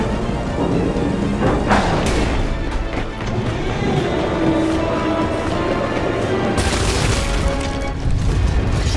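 A rocket engine ignites in the Gears 5 video game with a loud, sustained roaring rumble and booming bursts, swelling sharply near the end, with no talking.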